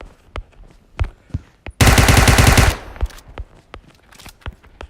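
Loud sustained burst of rapid automatic gunfire from hip-fired guns in the PUBG Mobile game's zombie mode, lasting about a second, surrounded by scattered single shots and game effects.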